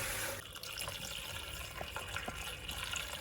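Beef bones are rinsed under a running kitchen tap, with a faint, steady splash of water and a few soft knocks and clinks.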